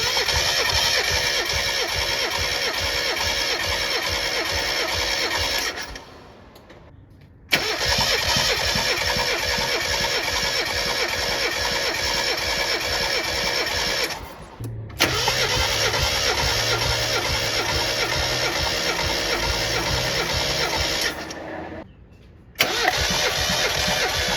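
A Mazda Miata engine cranks over on the starter during a compression test with the throttle held wide open, three long, loud, even bursts of rhythmic churning, each lasting several seconds and separated by short silent pauses.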